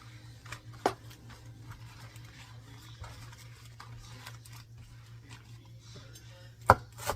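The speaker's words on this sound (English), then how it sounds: "Once you get all the ribs removed, you can just chop them up" Knife chopping chard and garlic greens on a board: sparse, faint cuts over a steady low hum, with a couple of sharper knocks near the end.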